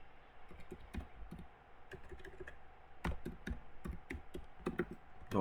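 Typing a command on a computer keyboard: a few scattered key taps followed by quicker bursts of clicking, close and clear against quiet room tone, with no talking.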